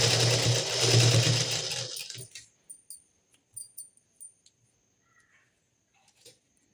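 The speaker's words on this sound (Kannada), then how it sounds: "ಈಗ ಇದನ್ನು ಕರೆಕ್ಟಾಗಿ ಇಟ್ಕೊಂಡು ಸ್ಟ್ರೈಟಾಗಿ ಸ್ಟಿಚ್ ಹಾಕೋಬೇಕು" A sewing machine stitches a straight seam on a plain blouse, a loud steady whirring run for about two seconds, followed by a few brief, faint clicks and handling taps.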